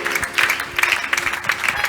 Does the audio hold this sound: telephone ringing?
no